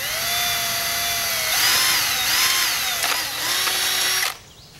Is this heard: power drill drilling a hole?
yes